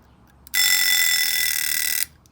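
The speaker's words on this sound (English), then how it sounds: "I'll just set the alarm so it actually rings." A Westclox Charmer Baby Ben wind-up alarm clock rings loudly and steadily for about a second and a half, a bright continuous bell rattle that starts and stops abruptly in a quiet room.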